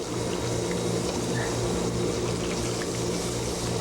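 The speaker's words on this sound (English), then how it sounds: "Now I'm going to add my milk." Milk pours steadily into a pan on the stove, a continuous liquid rush running the whole time with no voices.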